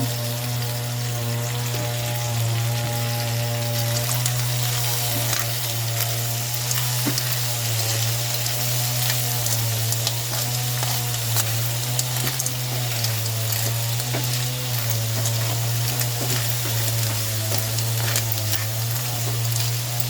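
Boiled lapas stirred and frying in a pan, a loud steady sizzle with a constant low hum running beneath it and faint scraping from the stirring throughout.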